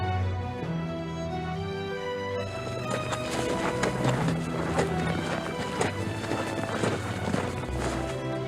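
Hooves of a ridden horse clatter in a brisk, uneven rhythm across open ranch terrain in Nancy Drew: Secret of Shadow Ranch, set over a sustained musical score, loud and close.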